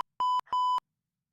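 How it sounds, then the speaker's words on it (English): Two electronic beeps, each a clean, sustained tone lasting about a fifth of a second, separated by a short gap, loud and alone against silence. "Do you have a beep?"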